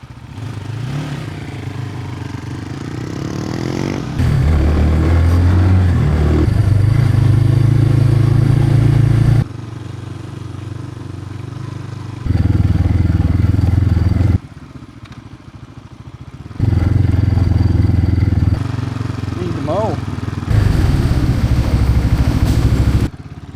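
An RPS Cruiser motorcycle engine runs while riding around Crystal River toward Ozello, droning steadily and rising into louder, higher-revving stretches between lower passages, close and continuous with no talk.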